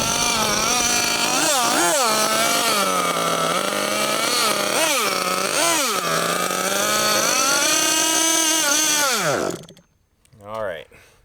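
A gas-powered Losi LST XXL2 1/8 scale RC truck engine revs loud and close, its pitch swooping up and down through repeated throttle blips and bogging before cutting out abruptly near the end, followed by a short faint rise.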